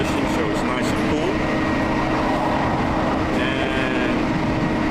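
Inside an air-conditioned SRT Eastern Line express train running from Pattaya to Bangkok, a steady, dense rumble of wheels and carriage noise fills the space, with a faint higher whine partway through.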